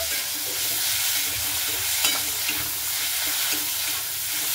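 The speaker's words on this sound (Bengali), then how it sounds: "দিয়ে একটু ভালো মতো করে নাড়াচাড়া করে নিচ্ছি।" Spinach cooking with a little sugar in a frying pan is stirred with a utensil, giving soft scraping and steady sizzling at close range, with a few sharper clicks against the pan and no talking.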